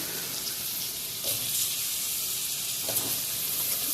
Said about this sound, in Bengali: এবার আলুটাকে একটু লাল লাল করে নুন হলুদ দিয়ে ভাজি।